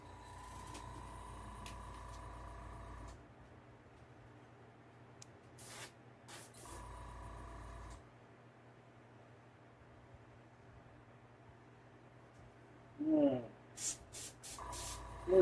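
An airbrush driven by a compressor sprays paint onto a blue plastic 1/48 Corsair Mk2 scale model outdoors, with steady hissing bursts that start and stop between quiet gaps and a few sharp clicks.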